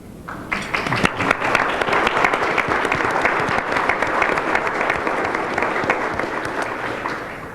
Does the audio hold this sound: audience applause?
yes